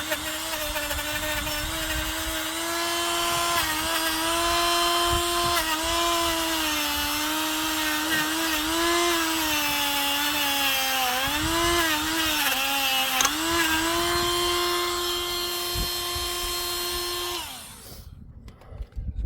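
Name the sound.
rechargeable Pro Work wire brush tool cleaning brake calipers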